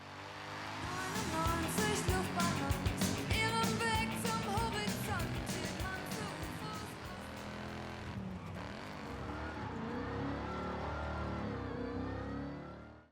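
A Mercedes car in the racing game Forza Horizon, its engine revving hard and rising through gears, loud and continuous, easing off toward the end.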